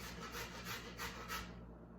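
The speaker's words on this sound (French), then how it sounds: "Pour la carotte, je vais utiliser les petits. Parce que la carotte, c'est plus dur." A carrot rubbed against the small holes of a metal grater gives four rhythmic rasping strokes close by, each a soft scraping swish, then trails off into quiet.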